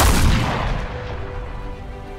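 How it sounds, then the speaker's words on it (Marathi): A single heavy cannon boom hits loud at the start and rolls away into a long fading rumble, with no voices. "जेव्हा बाजीप्रभू देशपांडे यांनी तोफांचे तीन आवाज ऐकले"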